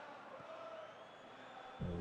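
Stadium crowd noise from the PES 2019 football video game during an Inter Milan match, a steady broad roar with a rising surge of cheering at the end.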